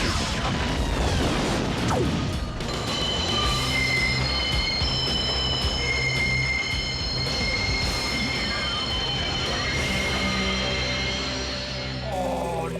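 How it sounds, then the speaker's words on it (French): Runaway cartoon trains rumble along with loud, sustained metallic wheel squeals, high screeching tones that drift and overlap over a heavy rolling clatter and occasional booms. "Oh non, les trains semblent incontrôlables."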